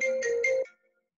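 A short electronic phone ringtone plays as a call is placed in a children's story: a bright, clear tone pulsing in three quick beats, then fading to silence.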